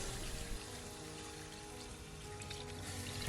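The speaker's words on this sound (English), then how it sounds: "Add a pinch of salt and the bone broth to barely cover the solids." Bone broth pours into a pot of solids for a vintage French beef stock, a soft continuous trickle and splash, quiet and close with no speech.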